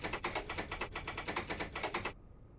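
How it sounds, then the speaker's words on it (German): Control levers of a Giruno train in Train Simulator Classic, operated from a keyboard, clicking in a fast, even series of sharp ticks for about two seconds before stopping abruptly, leaving quiet background hum. "die Hebel machen durchgehend dieses Geräusch, wenn man mit der Tastatur fährt"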